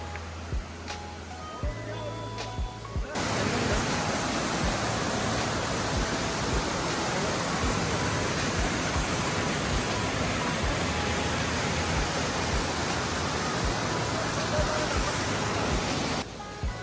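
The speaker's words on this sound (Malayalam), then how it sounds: "ആളുകൾ ഇറങ്ങാത്ത വെള്ളച്ചാട്ടമാണ്." A waterfall at Vagamon in Idukki roars as a steady, loud broadband rush that swells up and holds for most of the stretch, with a quieter ambient lead-in before it.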